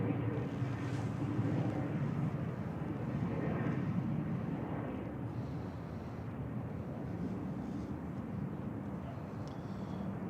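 Aircraft EI-HDH departs Manchester Airport as flight 3325 for Dublin, a steady broadband jet roar holding at an even level throughout.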